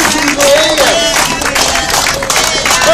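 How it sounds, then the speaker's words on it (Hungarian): A crowd at a foreign-currency mortgage debtors' protest on Budapest's Nyugati tér overpass breaks into loud, sustained applause and clapping, with voices calling out above it throughout. "egy óriási tapsot még egyszer"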